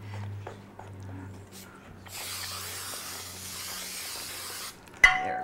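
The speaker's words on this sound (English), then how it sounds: "I'm going to spray the dish." A short hissing burst of cooking oil spray onto a baking dish in a home kitchen, a few seconds of soft spray noise after low background hum, ending with a clunk.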